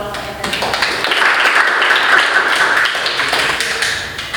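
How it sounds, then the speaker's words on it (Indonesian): A classroom group bursts into applause for a student team, with dense, fast, even clapping that stays steady and fairly loud throughout. "Beri aplaus untuk kelompoknya tadi"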